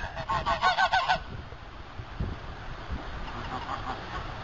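Sebastopol geese, a curly-feathered breed, give a quick burst of several loud nasal honks in the first second, then fainter honking and rustling further off under light wind, with no talk.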